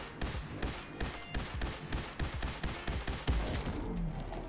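Rapid energy-rifle shots from a Recharger Rifle in Fallout 4, a dense string of sharp repeated blasts roughly every quarter second, loud and close with no talking.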